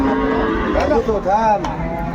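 Cattle moo nearby at a Sahiwal cattle market in Dinajpur, Bangladesh, a couple of drawn-out lowing calls rising and falling over a steady background hum, with faint voices in the distance.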